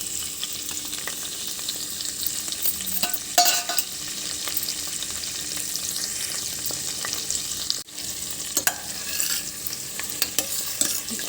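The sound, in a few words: ginger and green chilli pieces frying in a pan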